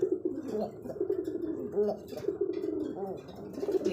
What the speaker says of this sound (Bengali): আর ডাকতেছে এটা হচ্ছে নর কবুতর